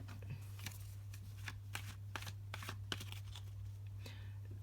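Tarot cards are shuffled by hand in a quiet room, a run of crisp riffling bursts in an uneven rhythm over a steady low electrical hum.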